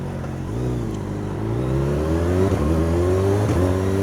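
A motorcycle engine at a motodrag race revs upward in rising steps, loud and close with a strong low drone, and no talk.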